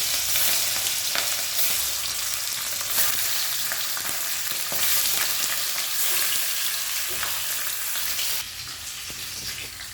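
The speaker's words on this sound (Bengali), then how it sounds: "তেল কড়াইতে সর্ষের তেল দিয়ে দিয়েছি, তেলটা গরম হয়ে গেছে, মাছটা হালকা করে দিয়ে দেবো।" Hilsa fish pieces, the season's first, frying in hot mustard oil in a kadai produce a loud, continuous crackling sizzle with faint pops and stirring, easing slightly toward the end.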